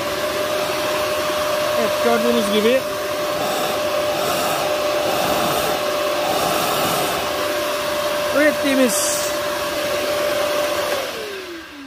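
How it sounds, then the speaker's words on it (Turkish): A vacuum cleaner powered by solar-generated electricity hums with a steady, loud motor whine throughout while a person talks over it, then it cuts off at the end. "Son olarak süpürgeyi çalıştırıyorum."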